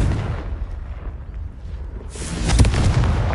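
A Confringo fire spell in Hogwarts Legacy goes off as a close, heavy blast: a deep rumbling explosion that builds and bursts again near the end.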